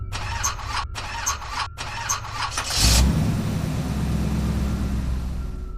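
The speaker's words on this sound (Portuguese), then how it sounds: "Foi somente na terceira vez que girei a chave que o motor finalmente ligou." A car's starter cranks in several rhythmic bursts before the engine catches with a loud roar and settles into a steady rumbling idle, close and alone.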